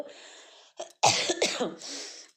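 A person suffering from a cold and cough lets out a short cough, then a louder burst of two or three harsh, raspy coughs close to the microphone, with no talking.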